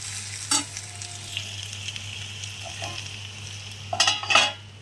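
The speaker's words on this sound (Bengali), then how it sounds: "আর এখানে মাছের ডিমটা আলু দিয়ে ভাজতে বসিয়েছি" Fish roe and potatoes fry in a pan with a constant sizzling hiss. A few sharp clinks and scrapes of a utensil stirring come through, one near the start and a cluster near the end. No voices are heard.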